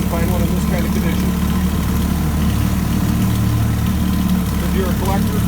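A 1965 Evinrude 9.5 HP outboard motor in near-new condition idles steadily, a constant low engine drone running the whole time with someone talking over it.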